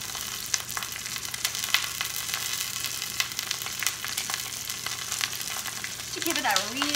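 Meat sears in a hot pan with rosemary and a little mint, giving a steady broadband sizzle with occasional crackles and a brief stirring scrape near the end, no voices present.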